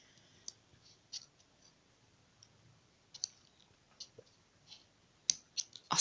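A utility knife clicks at close range during the opening of an Xbox game package. Scattered sharp clicks come at uneven intervals over a quiet background, a couple of them louder near the end, with no talking.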